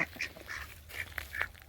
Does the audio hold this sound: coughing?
no